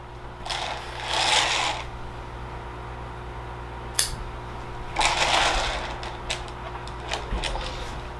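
Pruning shears cutting a bonsai tree branch in January, a sharp snip followed by soft rustling and brushing of twigs and foliage, close up, over a steady low background hum.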